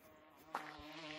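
Bees buzz around beehives in the Gorilla Tag video game, a faint, continuous droning hum with a brief louder flutter midway.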